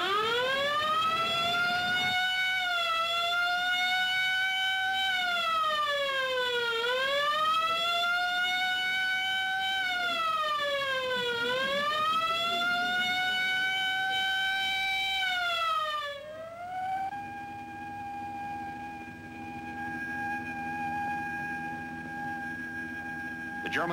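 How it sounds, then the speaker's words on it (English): Air raid sirens sound an alert across wartime northwest Germany, their long wailing tones rising and falling in slow repeated sweeps, loud and steady, then settling into a sustained lower drone. "A secondary alert is sounded throughout northwest Germany."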